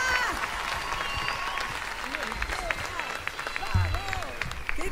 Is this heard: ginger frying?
no